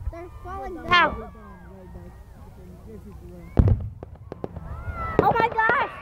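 Fireworks go off in a Canadian celebration, a few loud booms and sharp crackling pops spread over several seconds while excited voices cheer and talk throughout.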